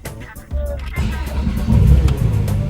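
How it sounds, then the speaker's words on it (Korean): A 2016 Porsche 911 GT3 engine cranks and catches about half a second in, then swells into a loud, deep rev and settles into a rumbling idle. "시동을 걸어보겠습니다."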